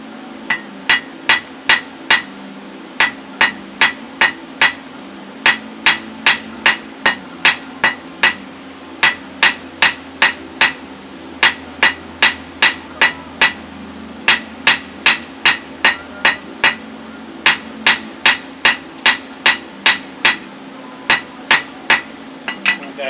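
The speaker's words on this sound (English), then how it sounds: "I'm going to draw out each end, make a taper on them, and then curl them around and bend it." Blacksmith's hammer ringing on hot metal at an anvil in a backyard forge, drawing out a taper in fast bursts of sharp clangs separated by short pauses, loud and close throughout.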